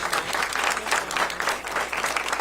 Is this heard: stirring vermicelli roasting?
no